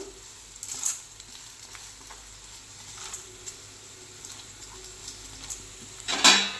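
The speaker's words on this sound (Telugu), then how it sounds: "మన వేరుశనగ పప్పు కొంచెం వేగిందండి ఇప్పుడు ఇందులోనే మనం కొంచెం పచ్చిశనగపప్పు మినప్పప్పు వేసుకుందాం" Peanuts frying in oil in a pan as chana dal and urad dal are added, a soft steady sizzle with light stirring and scraping, a few sharper clinks near the end, no talking.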